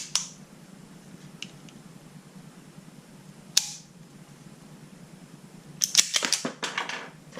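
Kimber Stainless II pistol cycling snap caps from a magazine: a few sharp, isolated metallic clicks and snaps spaced apart, then a quick cluster of rattling clacks near the end, close up and fairly loud.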